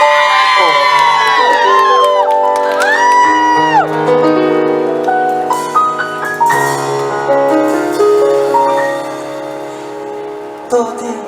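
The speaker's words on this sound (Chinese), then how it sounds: "来，掌声欢迎！" A crowd at an outdoor Taiwanese-language concert in Linkou, New Taipei, cheers and whoops with rising, sustained shouts over tonal music, loud and near throughout, and voices call out over the noise.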